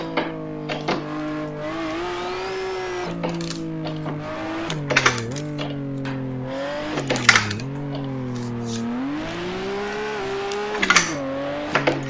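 A drift car on the Gunsai Touge mountain road in the racing game Assetto Corsa, engine rising and falling through gear shifts, with bursts of tire squeal and sharp clicks along the run; no talking.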